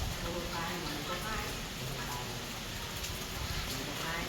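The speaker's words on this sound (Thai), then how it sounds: "ฝนตก" Steady rain falls outdoors in rural countryside as a continuous, even hiss that stays quiet and unbroken throughout.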